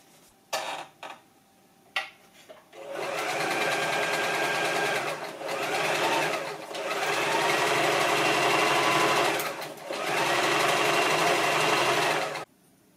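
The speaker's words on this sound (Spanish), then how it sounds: "lo que tenemos que hacer es coser la parte de arriba, pasaremos un pespunte" A sewing machine topstitches the top edge of a handmade children's backpack: a few short starting bursts, then long steady runs of rapid whirring stitching with brief pauses, close and loud.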